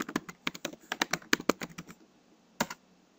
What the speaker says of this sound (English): You type git fetch upstream, and then type your password